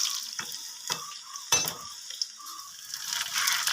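Onion and mustard seeds fry in hot oil for a Kerala-style jackfruit curry, with a soft steady sizzle broken by a few sharp spattering crackles, close and quiet, with no talking.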